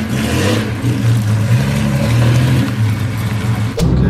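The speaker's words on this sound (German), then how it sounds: "R34 GTR, RB26 Motor von Turbo auf Sauger umgebaut." Nissan R34 GTR with its RB26 engine converted from turbo to naturally aspirated, revving in a steady, loud, sustained drone that holds for several seconds before a brief dip and return.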